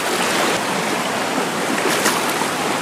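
The Cascata del Molino in Sicily pours water onto huge rocks, making a dense, steady, loud rushing roar heard close by with no speech.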